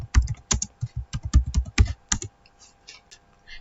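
Quick bursts of keystrokes on a computer keyboard as a network router command is entered, a dense flurry of clicks for about two seconds, then a few scattered lighter taps trailing off, close and clear with no talking.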